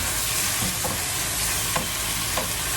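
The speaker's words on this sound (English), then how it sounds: "Just going to give this a really quick stir." Lithuanian kotletai meatballs frying in a pan get a quick stir, a steady loud sizzle with a few soft scraping strokes of a utensil through the oil.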